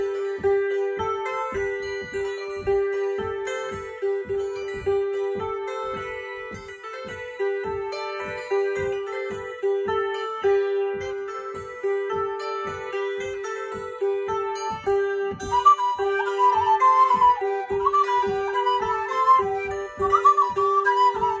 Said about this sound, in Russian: сейчас исполним для вас полисовой наигрыш «Липпа»